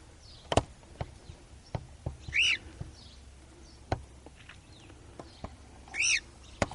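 A lost cockatiel gives two short, loud, rising whistled calls a few seconds apart, with scattered taps and clicks in between, outdoors with no talking.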